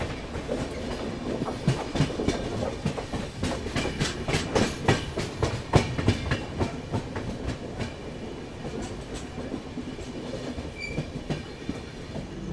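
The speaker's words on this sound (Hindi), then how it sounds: "मक्सी अपनी ट्रेन ने स्किप कर दिया है।" Ahmedabad Gorakhpur Express passenger train hauled by a WAG7 locomotive running along Indian rails, with a steady clickety-clack of wagon wheels over joints and a continuous rumble heard from on board, no voices.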